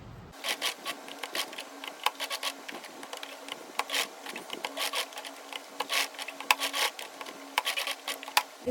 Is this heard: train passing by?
no